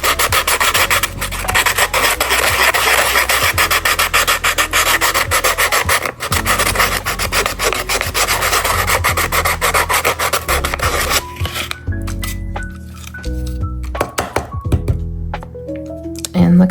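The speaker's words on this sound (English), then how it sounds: "You could take some sandpaper," Sandpaper rubbed hard against a plastic vintage Barbie doll part in steady rasping strokes, loud and close, easing into lighter scrapes and knocks near the end.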